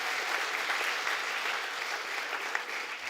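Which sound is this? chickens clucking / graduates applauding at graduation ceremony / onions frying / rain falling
graduates applauding at graduation ceremony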